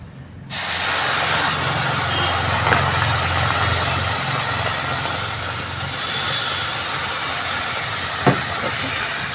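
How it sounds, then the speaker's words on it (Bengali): Water poured into a hot pan of reddish-fried food for a spicy dish bursts into a loud, sustained hissing sizzle that starts abruptly and holds steady, with a faint click or two. "লাল করে ভাজা কমপ্লিট এবার দেবো হচ্ছে জল"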